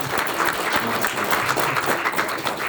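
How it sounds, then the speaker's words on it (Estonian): Steady, dense applause from a lecture audience at an Estonian language-club talk, continuous and fairly loud throughout with no pauses. "siis teeme suure aplausi"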